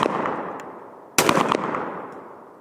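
A Beretta 686 Silver Pigeon 20 gauge over-under shotgun fires a 1 ounce game load, one sharp loud blast with a short crackling echo tail, heard outdoors with no talking.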